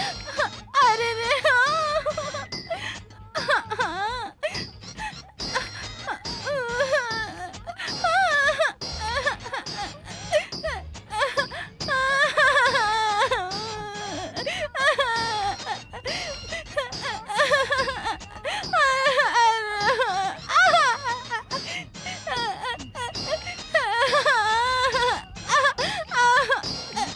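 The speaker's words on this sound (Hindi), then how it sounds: "अंदर संगीत की बजाय रोने की आवाज आ रही है" Crying heard from inside a room in a Hindi film scene, a woman's wailing and moaning sobs rising and falling continuously, loud and close, with voices mixed in.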